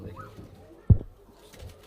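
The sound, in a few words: pigeons cooing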